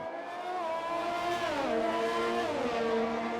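F1 car in F1 2020 at the Canada GP pulling out of the pit lane, engine whine climbing through gears with pitch drops at shifts, steady and close, no voices.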